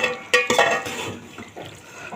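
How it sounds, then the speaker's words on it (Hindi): Cooked chicken with capsicum (shimla mirch) is served from the pan into a serving dish: a couple of bright utensil clinks up front, then softer scraping and clattering of metal against cookware, close and moderately loud. "अभी मैं इसको डिश आउट करूँगी।"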